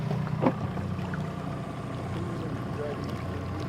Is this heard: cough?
no